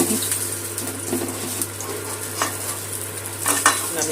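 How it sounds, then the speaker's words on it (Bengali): Tilapia fish pieces frying in hot oil give a steady close sizzle and crackle, with a low constant hum beneath and a few brief scraping stirs of a utensil, no voices. "মাছের 2 পিঠটা ভালো করে ভেজে নিচ্ছি"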